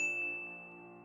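A single soft notification bell ding, a quiet ringing chime that strikes once and fades away over about a second.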